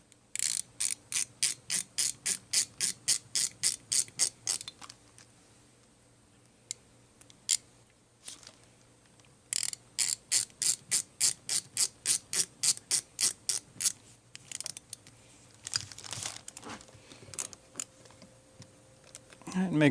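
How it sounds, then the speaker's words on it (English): Screws are driven into a Mikuni carburetor by hand, making quick runs of sharp, evenly spaced ratcheting clicks up close, with pauses and a few scattered knocks between the runs. "Hold it in and we screw it in."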